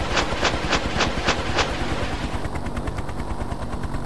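Rockets firing from a Hind helicopter in a flying-tank simulator game: a rapid, loud, evenly spaced string of launch bursts that merges into a faster rattling barrage, with no voices.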